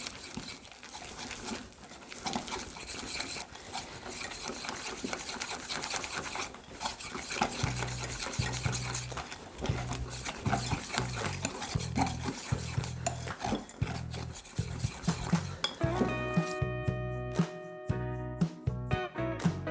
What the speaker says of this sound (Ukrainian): Додаємо невелику кількість білків до жовткової маси та дуже швидко замішуємо.